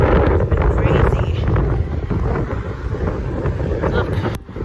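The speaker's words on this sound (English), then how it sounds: "You can probably hear the raindrops." Rain falling in strong wind outdoors in Ontario, loud buffeting wind roar on the microphone with a steady patter of drops, continuous and close, with a person talking over it.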